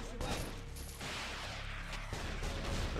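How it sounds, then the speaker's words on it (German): A rocket launcher explosion in the Half-Life mod Heart of Evil: Napalm Edition, a burst of explosive gunfire-like blasts followed by sustained rumbling and crackling. "Das war Raketenwerfer."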